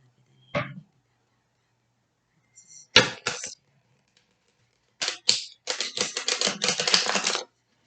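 Playing cards being shuffled in several bursts of quick, crisp riffling flutters, one short burst near the start, two more in the middle, then a longer continuous riffle toward the end, close by in an otherwise quiet room.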